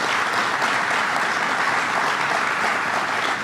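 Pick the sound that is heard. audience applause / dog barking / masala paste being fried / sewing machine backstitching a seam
audience applause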